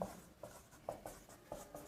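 Marker or chalk writing on a board during a chemistry lecture on molecular orbital theory and bond order, heard as short rhythmic strokes in a few quick bursts, faint and close, with no talk over them.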